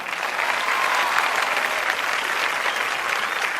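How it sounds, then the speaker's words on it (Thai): Studio audience applauds a young singer on a Thai televised golden-mic singing contest, a dense, steady wash of clapping filling the whole stretch at close range with no voices over it. "ขอเสียงปรบมือน้องใบเฟิร์นด้วยนะครับ"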